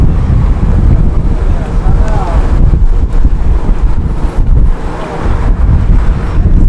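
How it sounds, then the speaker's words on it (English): Strong outdoor wind buffets the microphone in heavy, continuous low rumbling gusts while someone eats tacos outside. "this wind sucks so bad"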